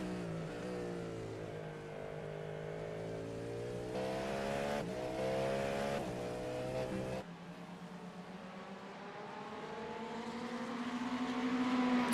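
GT3 race cars at speed on the Road America circuit, engines droning loud and continuous with rising and falling pitch as they carry speed through a slow corner, a sharp drop in tone around midway as one passes.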